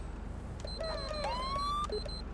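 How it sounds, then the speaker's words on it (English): A police car siren in the video game GTA 5, sounding on a state trooper patrol vehicle in snow, rises in short wailing sweeps and electronic chirps, moderately loud over a steady low engine rumble. "Let me put my sirens on here."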